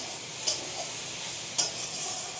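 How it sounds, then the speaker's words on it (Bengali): Okra, potato, onion and green chilli frying in a pan at home, a steady soft sizzle with two sharp scraping stirs of a spatula, close by and with no voices. "দেখো ভাজছি তোমার ভেন্ডি, আলু, পেঁয়াজ, কাঁচা লঙ্কা দিয়ে ভাজছি"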